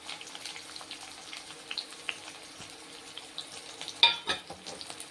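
Onions and green chillies frying in oil with curry leaves and dried red chillies for cabbage poriyal, a faint, steady sizzle with light scattered clicks and one sharper utensil scrape near the end.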